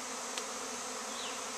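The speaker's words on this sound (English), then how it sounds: "And there's bees." A steady, dense hum of many bees swarming a hive fills the air, constant and unbroken, with a faint higher whine drifting past.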